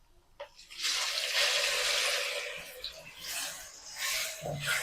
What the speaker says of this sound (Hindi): मसालों को पहले फ्राई करेंगे। साथ ही एक बड़े साइज की चॉप की हुई प्याज डाल देते हैं।